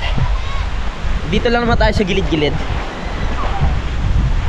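Sea waves wash against the shore in a constant broadband rush, with people talking over the surf.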